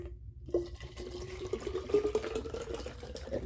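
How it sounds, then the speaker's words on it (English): Water pours steadily into a Cirkul bottle, a trickling, gurgling stream that rises slightly in pitch as it fills, close by with no talking. "Just pour your water"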